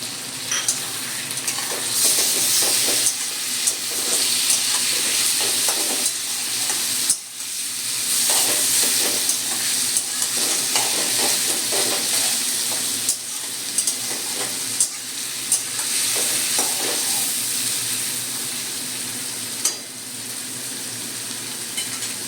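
Potatoes and onion frying in oil with green chilli and tomato just added, a continuous loud sizzle broken by repeated scraping stirs of a spatula against the pan, with no talking.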